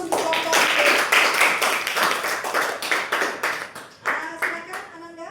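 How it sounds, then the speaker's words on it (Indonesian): Applause for a student group in a classroom: a burst of many hands clapping together, dense and lively, thinning slightly toward the end, with some voices mixed in. "aplaus untuk kelompok"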